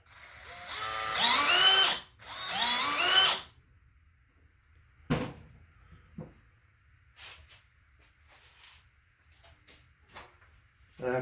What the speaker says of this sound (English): try drilling it to match